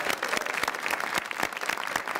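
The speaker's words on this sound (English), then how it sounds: "Can you give her a nice round of applause?" A studio audience on the Connecticut TV show Better Connecticut gives a brisk round of applause, dense, even clapping for a couple of seconds.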